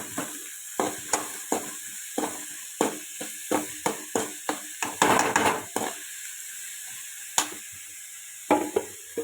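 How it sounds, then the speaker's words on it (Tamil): Onions sizzle steadily in oil in a pan while a spoon stirs and scrapes against it in irregular clicks and knocks, close by. "நல்லா ஃப்ரை பண்ணணும் ஆனியனில் ஆயிலில் போட்டு"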